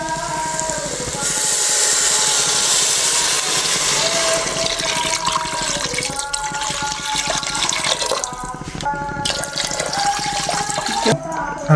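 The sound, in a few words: water poured into pot for rice biryani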